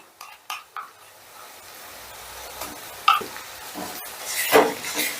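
Onion, green chilli and ginger-garlic paste frying in a pan, with soft sizzling, a couple of sharp utensil knocks at the start and scraping stirs building toward the end.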